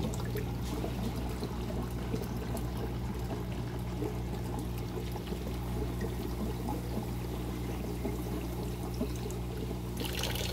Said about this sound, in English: Let's fill up a plastic bottle.